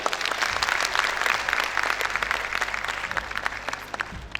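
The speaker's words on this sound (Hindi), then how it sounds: "इन सबके लिए तालियां यार" An audience at a fitness seminar at the Lahore Expo applauds, with dense, steady clapping that stays loud throughout and thins slightly toward the end.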